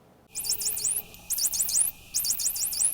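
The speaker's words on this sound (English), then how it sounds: "Take a listen as one dolphin calls his own unique whistle." Three repeated bursts of a dolphin's high, looping signature whistle, each a quick series of rising and falling sweeps, spaced evenly over a soft background hiss.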